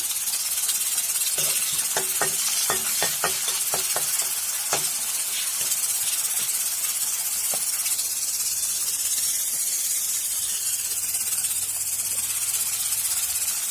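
Onion and 3-5 green chillies slit down the middle fry in a pan for Ly sak baji, giving a steady, close hiss. Sharp crackling pops come early, then the sizzle settles into an even wash.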